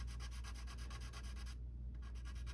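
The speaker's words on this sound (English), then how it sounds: "It's just the motion of the sandpaper is all you want to do." A 3D-printed model is lightly sanded by hand with sandpaper, producing close, steady rhythmic rasping strokes with a short pause near the end, with no voices.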